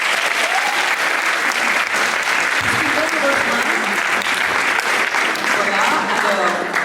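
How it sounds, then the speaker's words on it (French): An audience applauds the four candidates of a school eloquence contest in a hall, producing a dense, loud, sustained wash of many hands clapping at once, steady throughout with no break. "je vous demande de les applaudir tous"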